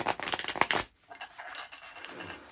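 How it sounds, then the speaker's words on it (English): Tarot cards are riffled close up in a quick burst of crisp, flapping rustles, followed by softer, faint sliding and tapping as the deck is squared. "so I'm going to give it a last shuffle here."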